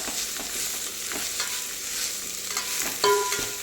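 Amaranth greens (thotakura) frying in a pan with steady sizzling and occasional stirring scrapes, close and moderately loud, with no voices.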